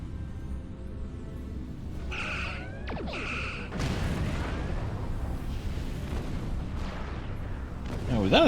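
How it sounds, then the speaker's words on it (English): Weapons fire in the Star Trek Online video game: repeated booming shots and crashes with whooshing bursts, loud and continuous, layered over game effects and a voice in the background. "this auto fire is a wonderful thing"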